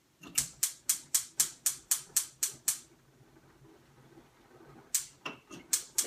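Gas stove igniter clicking rapidly in a steady run of about ten sharp ticks, then a pause with faint room noise, followed by a few more irregular clicks as the burner fails to light.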